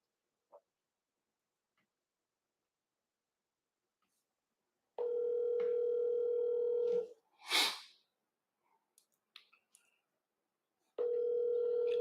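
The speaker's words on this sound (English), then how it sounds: "Let's call back that original number" A telephone ringback tone sounds during a call back to a number: a steady two-second tone burst, then a sharp breath or sneeze-like noise and a few faint clicks, before the tone starts again.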